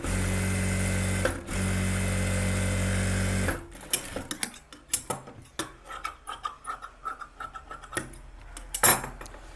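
A sewing machine edge-stitching the back neck of a blouse runs in one steady, close whir for about three and a half seconds, then falls silent except for scattered clicks and clatter of handling.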